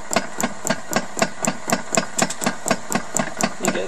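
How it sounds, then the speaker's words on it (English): Honda GX270 paramotor engine being cranked in a garage during an ignition circuit test, a fast steady train of sharp mechanical ticks and clatters, close and fairly loud, without catching to run. "I just start cranking the. You can hear it."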